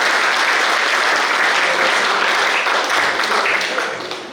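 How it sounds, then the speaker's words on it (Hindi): A college audience claps loudly to welcome guests onto the stage, including a traffic inspector, principal and poet, a dense, sustained round of applause that tapers off slightly at the end. "जोरदार तालियों से आप सबका स्वागत है।"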